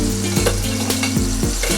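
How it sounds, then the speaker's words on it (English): Food sizzles and crackles steadily in hot oil in a pan, a close, continuous frying hiss with faint stirring scrapes and no talking. "Get them in that hot oil. Look at it, look at it. It's dancing."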